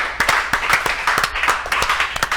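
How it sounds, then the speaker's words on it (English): An audience at a Hearthstone esports final claps steadily, with dense, quick, fairly close applause that holds for the whole stretch with no talk over it. "let's give another round of applause to both these guys"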